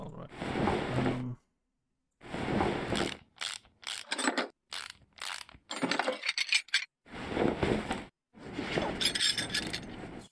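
A brake disc is removed in Car Mechanic Simulator 2018 with bursts of ratcheting and clanking metal, short mechanical clicks and rattles separated by brief silences.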